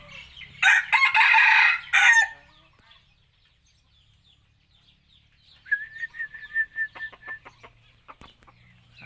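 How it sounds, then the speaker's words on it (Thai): A decoy rooster crows loudly nearby in one long burst, followed after a quiet pause by softer clucking and a thin higher call. "กลัวกล้องนะครับมันขันให้ฟังเลยครับ"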